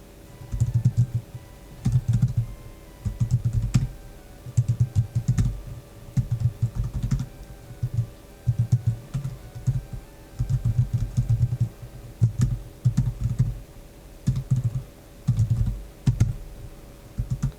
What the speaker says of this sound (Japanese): タイピング音はこんな感じ。